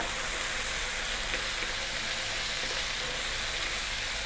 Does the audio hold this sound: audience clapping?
no